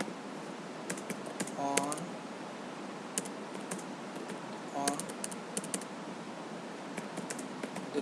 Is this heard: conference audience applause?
no